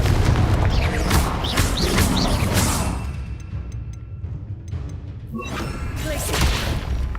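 Confringo fire spell blasts in Hogwarts Legacy, a loud booming explosive burst with crackling debris, then a brief quieter lull before another rumbling impact.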